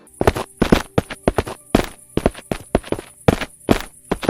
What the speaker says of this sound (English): the sound effects, like let's say the footsteps, need work